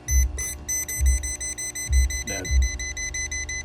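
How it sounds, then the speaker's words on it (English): A handheld voltage tester detecting 24 volts AC on thermostat wiring gives a steady high electronic tone with a few low thumps underneath, while someone speaks a word briefly. "it turns into red and it's constantly beeping, which means it's detecting 24 volts AC"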